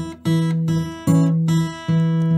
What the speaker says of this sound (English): I'm gonna play a simple melody right on top of the beat